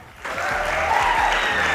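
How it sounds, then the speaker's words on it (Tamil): A studio audience at a magic show bursts into applause for a rock star, clapping rising quickly after a short pause and holding steady and full to the end. "ஸோ ராக் ஸ்டாருக்குனால ஒரு கைத்தட்டல் கொடுத்துடலாம்."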